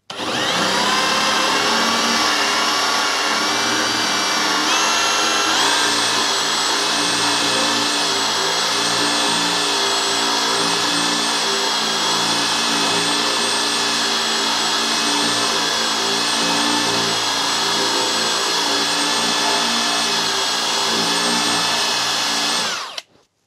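An AEG BSB18BL2 cordless hammer drill bores into MDF, producing a loud, sustained high motor whine with layered tones that shifts pitch slightly early on, runs continuously for over twenty seconds, then stops abruptly, with no voices.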